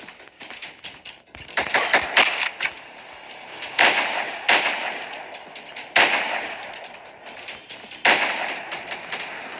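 Sharp gunshots from a shooting video game, fired in bursts and single cracks at irregular intervals, loud and close with brief gaps between them, and no talking.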